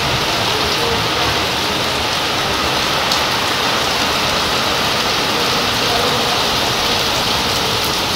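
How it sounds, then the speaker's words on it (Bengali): Sudden heavy rain pouring down outdoors, a loud, dense, unbroken roar of drops that stays steady throughout with no voices. "হঠাৎ করে এত জোরে বৃষ্টি নেমেছে দেখো, যেমন জোরে বৃষ্টি হচ্ছে"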